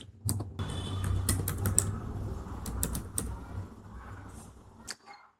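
Quick bursts of keystrokes on a computer keyboard while a formula is entered for a new calculated column in Excel Power Pivot, close and clear, with short pauses between runs of clicks and no talking.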